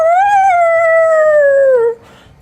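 One loud, close wolf howl holds a sustained tone that slowly falls in pitch, then breaks off into quiet.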